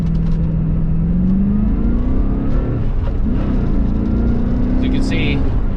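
A 1996 Corvette C4 with the LT4 V8 accelerates from a traffic light, its engine note rising and shifting at low revs, heard from inside the car under the occupants' talk.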